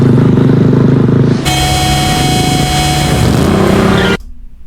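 A truck horn blares in one long, loud, steady honk of about three seconds, cutting in over a low engine rumble and ending abruptly, in a TV drama scene.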